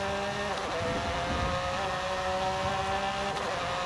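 Ford GT Le Mans race car engine drones steadily in Forza Horizon 5, a sustained loud motor tone with slight pitch shifts as the car drives on.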